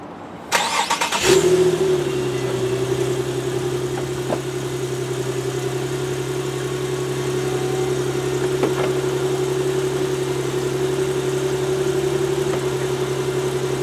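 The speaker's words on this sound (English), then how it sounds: "let's see how that convertible top works" A 2010 Infiniti G37 convertible idling as its power top operates, a click and start followed by a steady motor hum and engine drone, close and alone with no talking.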